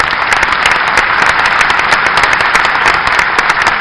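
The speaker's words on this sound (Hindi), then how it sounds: "प्रधानमंत्री का ताली बजा के आप अभिनंदन कीजिए" A large audience at a BJP office event in Bhopal claps steadily in continuous, dense applause for the Prime Minister, loud and unbroken throughout.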